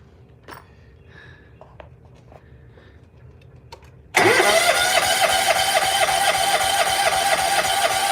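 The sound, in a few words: vehicle engine starting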